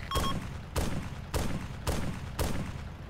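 Gunfire in the military shooter ARMA 2: five sharp shots at roughly even intervals, each with a loud crack and a rumbling tail, fairly close, with no talking.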